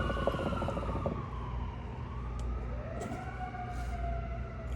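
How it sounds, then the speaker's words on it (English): Emergency vehicle sirens wail continuously with rising and falling tones, loud and steady over rumbling traffic noise, with no talk over them. "Bitch ass sirens."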